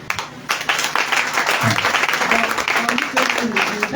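A church congregation at a divine healing service applauding, dense sustained clapping from a crowd starting abruptly, with voices calling out over it.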